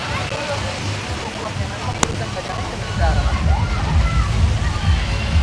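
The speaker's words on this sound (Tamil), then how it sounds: "இந்த தண்ணி இங்கே வரைக்கும் அடிக்கும்" Continuous splashing and sloshing water in a fountain pool in Jeddah, fairly close and loud, with a rougher surge partway through and faint voices in the background.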